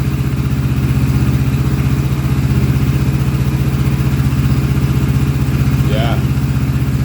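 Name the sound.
motorcycle engine idling while warming up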